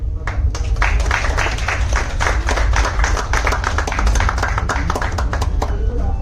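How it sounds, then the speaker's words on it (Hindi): Audience clapping for a guest called onto the stage at a business orientation welcome meet, with dense, steady hand claps filling the room for several seconds, sharp individual claps standing out over the crowd. "एक बार जोरदार तालियां उनके लिए।"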